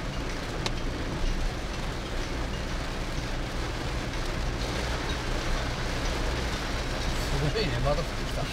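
Rain pattering steadily on a car driving through a downpour in Okinawa, a constant wash of noise with a low road rumble underneath, close and unbroken throughout.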